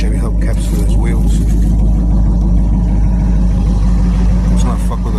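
Hot rod engine idling steadily with a deep, constant rumble throughout, close and fairly loud, while a person talks over it.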